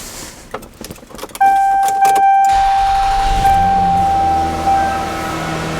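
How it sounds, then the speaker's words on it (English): A Lexus 1MZ-FE V6 engine cranks and catches after some keys jangling, then settles into a steady, close idle that softens slightly toward the end. "I want to observe what it does when I start it with the idle."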